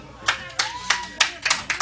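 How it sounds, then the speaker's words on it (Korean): A small audience at a Korean singing performance claps in a short run of sharp, evenly spaced handclaps, close and distinct, with a little talk beneath. "자, 박수 한 번 쳐주세요"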